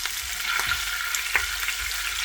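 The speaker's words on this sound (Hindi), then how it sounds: "अदरक और लहसुन को फ्यू सेकंड के लिए 30 सेकंड के लिए फ्राई करेंगे" Ginger and garlic frying in hot ghee over a low flame, a steady close hiss of sizzling oil with a few faint stirring scrapes, moderately loud and continuous.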